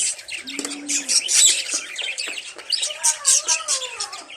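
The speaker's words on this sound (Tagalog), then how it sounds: "Dito naman yung bird na maliliit. Ayan. Lovebirds." Small lovebirds chirp in a busy aviary at Long Beach, quick high tweets and calls overlapping continuously, with a brief lower whistled note near the start and other birds calling in the background.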